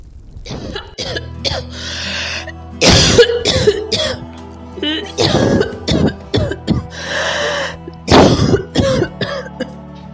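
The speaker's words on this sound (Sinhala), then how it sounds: "උඹට ඇහෙනවද මගේ කැස්ස" Dubbed cartoon character, an old man's ghost, coughing and clearing his throat in repeated harsh bursts spread across the scene, loud and close with short pauses between fits.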